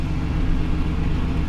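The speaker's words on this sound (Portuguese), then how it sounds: "Dois burnout, vamos lá" A Ford Taurus V6 held at high revs for a burnout, giving a steady, loud, close engine roar with a dense low rumble that stays unbroken the whole time.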